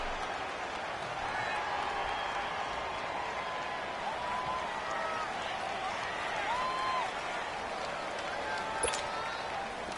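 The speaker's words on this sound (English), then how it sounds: "the crowd getting into it as we come up on a big third down" A stadium crowd in a PS4 American football video game roars steadily for ten seconds, a continuous wash of cheering with commentary voices talking over it.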